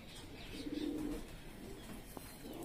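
A pigeon held in the hands and restless from handling gives a brief, soft, low coo, close by amid faint background noise.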